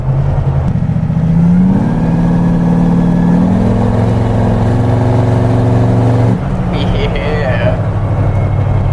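A 1931 Ford five-window coupe hot rod engine revs loud and close, a steady rumbling idle climbing in pitch as the throttle opens, then dropping back, with voices talking over it.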